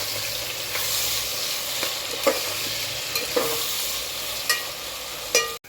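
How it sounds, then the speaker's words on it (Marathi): Garam masala and tomatoes frying in a pan for a paneer veg biryani: a steady close sizzle with a few sharp stirring clacks scattered through it. "सगळे गरम मसाले टाकून झाले की टाका टोमॅटो।"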